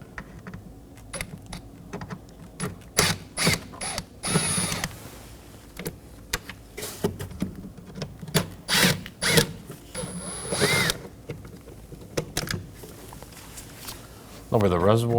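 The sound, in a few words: removing T25 screws with a T25 bit, Ford Transit Connect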